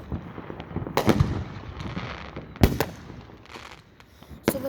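Fireworks going off near an outdoor airshow, loud sharp cracking bursts in clusters separated by rumbling pauses, with several strong close booms over distant popping.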